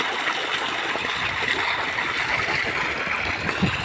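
Water pours steadily from a solar-powered borewell pump with its motor set 220 feet down, running in the morning as a loud, continuous gushing and splashing flow heard up close with no voices.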